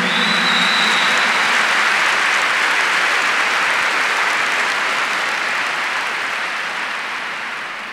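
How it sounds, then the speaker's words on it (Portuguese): A church congregation on a retreat breaks into loud, sustained clapping that fills the room and slowly tapers off toward the end, with no voices heard. "Give the Lord a big clap for that."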